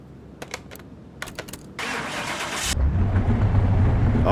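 A few clicks, then a lowrider's engine in the video game Car Mechanic Simulator 21 cranks with a loud hiss and catches, settling into a low, steady idle rumble.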